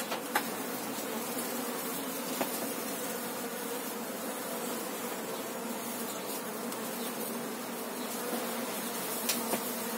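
Honey bees swarm and buzz steadily around an open hive being transferred to a new box, a dense continuous drone filling the whole stretch with a few louder passes close by.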